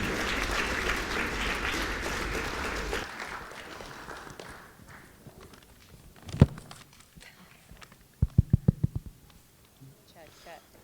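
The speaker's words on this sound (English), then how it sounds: "let's have a big round of applause for your bride and your groom" Guests applaud the bride and groom at a wedding, a full burst of clapping lasting about three seconds before it thins out, followed by scattered knocks, thuds and a quick run of taps in a quieter room.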